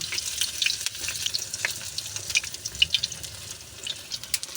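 Banana blossom frying in oil in a pan, a bright crackling sizzle with scattered pops and spits, close and moderately loud, fluctuating without any talking.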